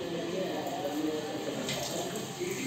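A steady stream of water poured into a mixer jar runs and splashes continuously for a few seconds, close by, with a faint voice underneath.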